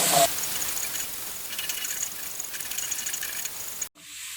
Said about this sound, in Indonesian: ini kita aduk rata, kita tumis hingga mengeluarkan aroma wangi